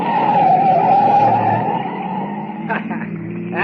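A light old jalopy takes a sharp right turn with a long loud tire skid that fades, followed by engine rumble, while people talk in an old radio drama.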